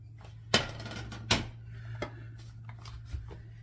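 A metal baking pan for a pumpkin roll, handled in a home kitchen: two loud metallic clanks close by, followed by a few lighter knocks and scrapes over a low steady hum.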